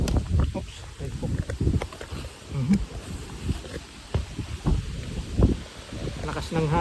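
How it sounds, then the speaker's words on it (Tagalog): Strong gusts of wind buffet the microphone outdoors on a highland farm, rumbling in uneven low bursts throughout while a person talks nearby. "Lakas ng hangin."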